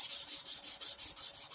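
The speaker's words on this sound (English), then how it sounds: "just run over again with some 600, just using the sanding block" A 600-grit sanding block rubs over the frets of a Fender Squier SE guitar in about eight quick, even back-and-forth strokes, a close, hissing scrape with no voices.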